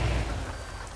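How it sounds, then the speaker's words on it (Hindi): Heavy rain in the truck driving game Euro Truck Simulator 2, a dense, constant hiss of rainfall with a low rumble underneath, steady and without speech. "बारिश हो रही है ना तो खराब?"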